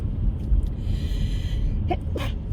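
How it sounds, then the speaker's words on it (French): A single sharp sneeze bursts out near the end, preceded by a quick intake of breath, over a steady low background rumble. "Je sens que je vais éternuer."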